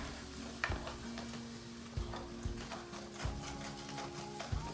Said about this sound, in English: we're just gonna add a little bit of our beef broth and we're just gonna scrape the bottom